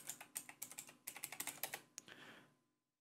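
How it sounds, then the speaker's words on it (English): Rapid bursts of keystrokes on a computer keyboard while logging in as an admin in Arma 3, a quick rhythmic flurry of close clicks that pauses briefly, resumes, then fades to silence. "So for that, you type in login, and then I'm going to blur out this password."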